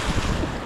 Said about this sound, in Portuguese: E a água bate aqui na parede, faz barulho, ó.